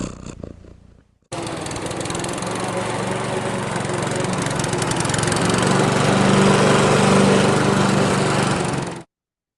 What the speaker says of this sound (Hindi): जनरेटर की साउंड